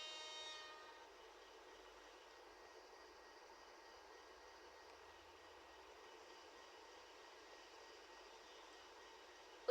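A train in a train video game sounds a brief harmonic horn at the start, followed by a faint, steady mechanical drone of the approaching train that holds evenly throughout.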